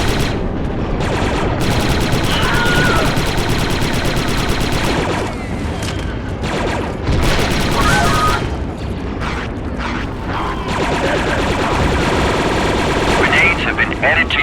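Dense, rapid blaster gunfire comes from an enemy gun position in the Star Wars Republic Commando game, loud and near, in sustained bursts with short gaps and distant booms.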